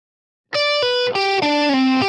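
An electric guitar plays a short Mixolydian lick with slides, distorted and effected, a few sustained notes gliding downward after a brief silence.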